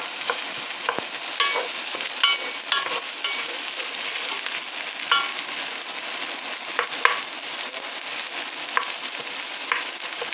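Onions fry in a pan in a home kitchen with a steady, close sizzle, and a utensil stirring them gives repeated light scraping clicks throughout. No one talks.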